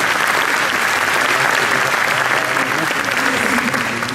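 Loud, dense audience applause at the 2018 ZFEP awards ceremony, a sustained wash of many hands clapping close by with no break.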